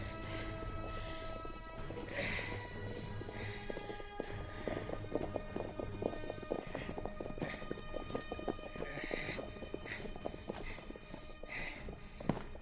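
Several horses walk on firm ground, their hooves clip-clopping in a steady, uneven patter at moderate distance, with faint background ambience and little talk.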